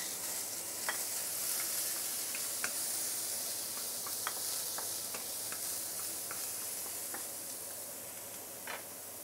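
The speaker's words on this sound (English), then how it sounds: "Once the oil is heated up, garlic, ginger, fresh coriander roots" Garlic, ginger and fresh coriander roots sizzling in hot oil, a soft continuous hiss dotted with small popping crackles, quiet and without talk.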